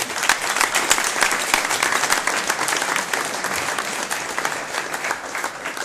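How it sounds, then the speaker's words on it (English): Sustained audience applause at a tech conference, many hands clapping in a steady wash that continues evenly and fades slightly toward the end. "and applause again"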